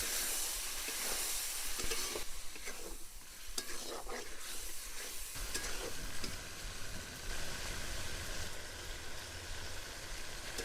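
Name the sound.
frying whole garlic cloves with spices in a pan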